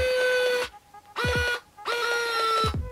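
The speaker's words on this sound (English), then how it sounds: "Here's an up-close shot of it actually tightening itself." A Nike Hyper Adapt 1.0 self-lacing shoe's motor tightens its laces in three close, loud whirring bursts, each a steady buzzing tone that winds up then stops with a short mechanical click-down, brief near-silent gaps between.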